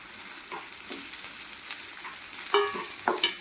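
Ginger garlic paste and capsicum fry in a pan with a soft, continuous sizzle, punctuated by sharper scraping and clinking of a utensil stirring near the end.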